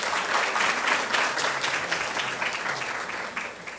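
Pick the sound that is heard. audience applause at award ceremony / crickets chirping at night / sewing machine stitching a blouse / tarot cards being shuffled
audience applause at award ceremony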